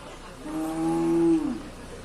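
A single cow at a livestock market lets out one long, near, droning moo that swells and then fades, over faint background murmur.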